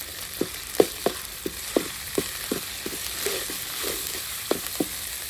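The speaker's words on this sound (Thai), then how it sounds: "ผัดไปผัดไปสักหน่อยครับผม" Eel stir-fried in a pan for a spicy Isan-style dish, with a steady sizzle and repeated sharp clacks of the spatula against the pan at an uneven rhythm, close and fairly loud.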